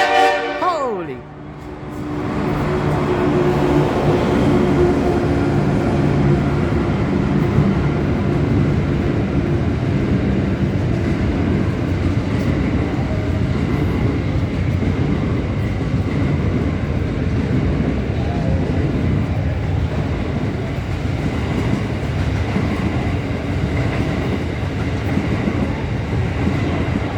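A freight train rumbles past a Transperth station near Bayswater, loud and close, with a steady broadband roar and wheel clatter for almost the whole stretch after a short horn-like tone at the start.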